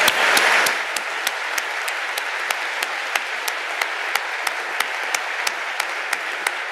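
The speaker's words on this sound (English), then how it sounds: "a round of applause for the 2 winners for 2022" An audience applauds two award winners at an award ceremony session, with a burst of dense clapping at first that thins to scattered, evenly spaced claps carrying on to the end.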